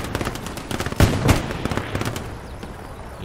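Gunfire in the World War II shooter game Hell Let Loose on a Kursk battlefield: rapid, sharp shots and bursts over steady battle noise, with no talking.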